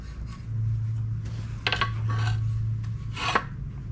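A metal transmission mount bracket for a Ford flathead three-speed slides into place, giving two short scraping rubs over a low steady hum, close by with no talking.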